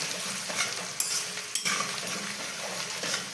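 A soft, steady sizzle of something frying in foaming butter in a pan for chicken stew, fairly quiet and close, with a couple of light utensil clicks.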